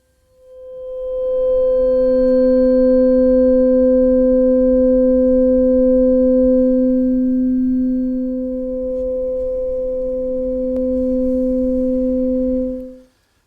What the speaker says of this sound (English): take one with a frequency of 512 cycles per second, which is twice the frequency of 256